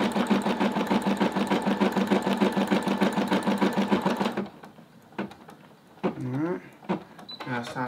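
An embroidery machine runs with a fast, steady mechanical chatter of needle strokes, loud and continuous, then stops abruptly; afterward a person talks over faint handling noises.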